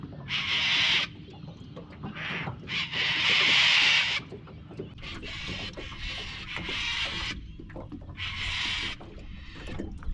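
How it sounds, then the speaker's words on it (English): Birds call repeatedly as they fly over Lake Macquarie, loud bursts of harsh squawking alternating with quieter stretches and faint background noise. "the birds coming over to say good day"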